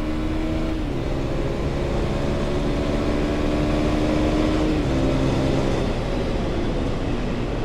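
A CFMOTO 250 off-road motorcycle engine revs high toward 10,000 RPM, a loud, continuous droning roar with shifting pitch steps, heard close and alone without talk.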